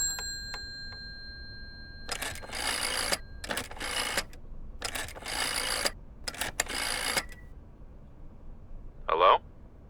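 A telephone is handled in the Layers of Fear video game, with bursts of clicking and rattling, a few faint ringing tones, and a short sharp chime near the end, all with no voices.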